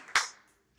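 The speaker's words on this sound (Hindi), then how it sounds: "अरे तालियां तो बजा दो यार इसके लिए" One short, sharp clap of hands in a quiet classroom during a Hindi lesson, fading into near silence.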